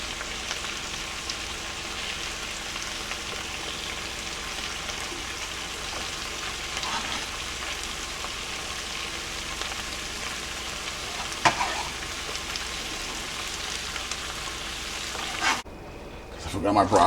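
Chicken and shrimp with green onion sizzle and fry in a hot pan, a steady loud crackle with occasional clinks of stirring, cutting out abruptly near the end before a brief clatter.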